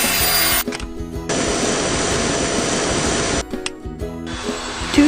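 JIMMY cordless stick vacuum cleaner with motorized brushes running at high suction, a loud whooshing motor roar that cuts out and switches modes several times, without any talk.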